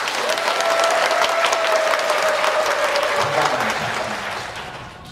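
Church congregation applauding during a Korean worship service, a dense burst of clapping that fills the room and then fades toward the end, with a faint sustained tone running beneath.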